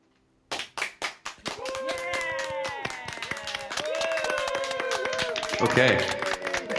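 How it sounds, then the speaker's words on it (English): An applause sound effect triggered from a button during a broadcast interview: a few sharp separate claps start it, then a dense sustained patter of clapping and cheering under a tonal musical layer, steady and loud to the end. "Somebody asked me to hit the applause button for you."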